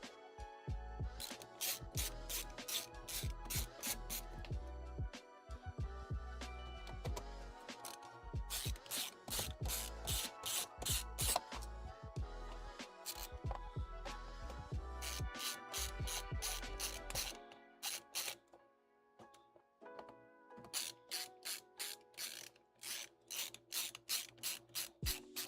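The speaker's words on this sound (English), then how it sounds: "Let's get all these screws out of here." Screws are backed out of a computer with a ratcheting driver, giving fast, close clicking runs in repeated bursts separated by brief pauses.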